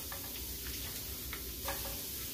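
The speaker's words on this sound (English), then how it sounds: "y'all hear that sizzling?" Zucchini noodles sizzle in a hot sauté pan, a steady close crackling hiss with a few brighter spits and pops, heard alone.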